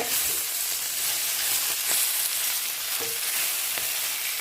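Stuffed green mussels, Kozhikode kallummakkaya nirachathu, frying in a pan, giving a continuous crackling sizzle with occasional sharper pops and stirring sounds, close up and with no talking.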